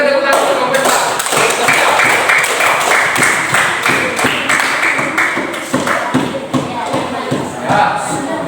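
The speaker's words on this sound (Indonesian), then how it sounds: "Berikan tepuk tangan untuk kelompok 4." A group claps together in a dense, steady burst of applause nearby, gradually thinning toward the end.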